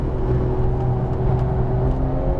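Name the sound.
exotic sports car engine downshifting under hard braking on track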